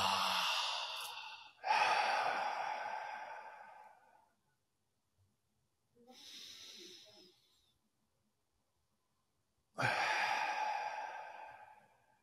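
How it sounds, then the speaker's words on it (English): Three slow, deep breathing cycles: long airy inhales through the nose followed by relaxed exhales released through the mouth, close and quiet, with a silent pause between the second and third breaths. "a mountaintop breath, which are nice deep inhales through the nose. Just let it fall out the mouth."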